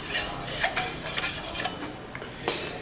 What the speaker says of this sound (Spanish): Para sacar brillo vamos a utilizar una espátula de acero inoxidable, ¿sí?